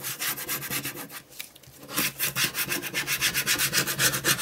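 A cutting mat is scraped and cleaned with rhythmic rasping strokes, close and fairly soft, speeding into a steady back-and-forth after a brief pause, with no talking.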